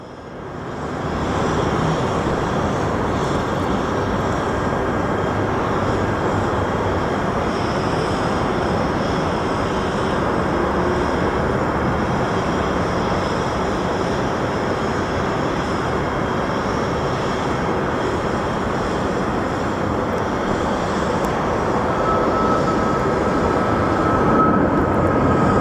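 An airliner takes off at Phoenix Sky Harbor airport, its jet engines giving a loud, steady, broad roar that holds for the whole stretch with no talking.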